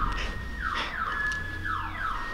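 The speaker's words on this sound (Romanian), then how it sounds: "E alarma!" A car alarm sounds behind a street scene, its siren sweeping down in pitch again and again in a steady repeating cycle, moderately loud against low background rumble.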